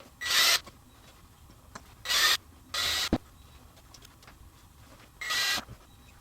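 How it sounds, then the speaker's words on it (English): A power drill whirs in four short high-pitched bursts with pauses between them, drilling holes for a Halloween door decoration, fairly close in a quiet room. "I'm going to continue on drilling all of these holes"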